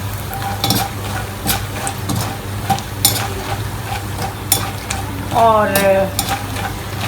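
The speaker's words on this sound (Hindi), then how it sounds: "जो हमारे पास मखाने थे उसको इसमें डाल देंगे और उसको भी फ्राई कर लेंगे।" Fox nuts (makhana) fry and sizzle in a pan while a utensil stirs and scrapes them in irregular clinks, with a louder burst of sizzling near the end and a brief spoken word.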